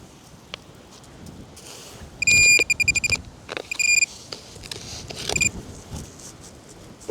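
A metal detector gives several bursts of high electronic beeping as it passes over a stone during an outdoor dig, mixed with faint rustling and handling noise, with no talking.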